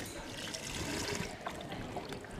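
Homemade chicken stock poured into an Instant Pot, a soft continuous liquid trickle and splash that runs steadily and close for a couple of seconds, fairly quiet with no talk.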